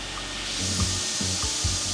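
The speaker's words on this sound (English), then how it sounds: "As you're vacuuming, listen for the suction sound." Kaivac floor vacuum drawing suction as it passes over a floor, a loud continuous airy rush with low thumps from the wand moving back and forth.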